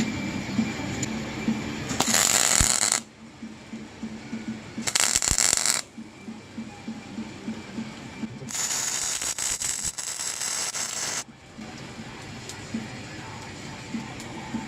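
Welding on the engine of a 2008 Chevrolet Express van: three separate bursts of harsh, crackling arc noise, each a second or a few seconds long, separated by quieter gaps of low background noise.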